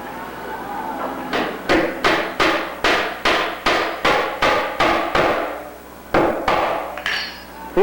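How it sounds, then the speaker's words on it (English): Number 8 nails are hammered into the edge of a 3/4 inch kiln-dried Douglas fir jig table lid: a steady run of about a dozen sharp, close blows, a brief pause, then a couple more strikes. "We're going to nail down the lid."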